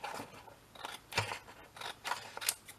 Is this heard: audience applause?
no